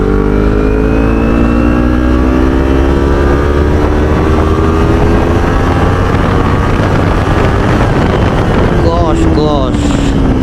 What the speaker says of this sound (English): It is a Acra Provish slip-on, and the sound is so sweet. Let's give it some push.